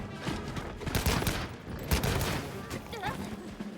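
Rapid bursts of video-game gunfire in Wild rattle in dense clusters around two moments, with people talking over the shots.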